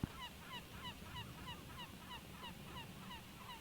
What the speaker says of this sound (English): the bird noises you're hearing, that's Duchess, just kind of over the side, just kind of squawking